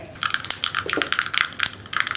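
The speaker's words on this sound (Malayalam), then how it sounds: "അപ്പോൾ നമ്മുടെ കടുക് പൊട്ടിക്കൊണ്ടിരിക്കുന്നുണ്ട്" Rapid, irregular pops and crackles of mustard seeds spluttering in hot coconut oil, close and sharp, with no talking.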